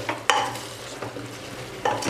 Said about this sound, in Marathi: हे सगळं छान पुन्हा एकदा परतवून घ्यायचं आहे मस्तपैकी